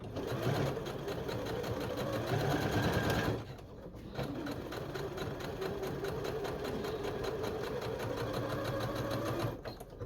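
A sewing machine runs in steady rapid bursts while stitching miniature toy clothes, its close mechanical whir pausing briefly around the middle and again near the end.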